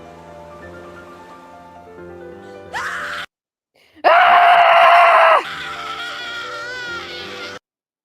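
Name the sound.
character screaming in animated gacha video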